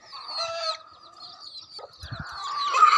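A hen clucks and calls in a series of fairly loud, close vocalisations. Other poultry sounds rise toward the end, with no speech.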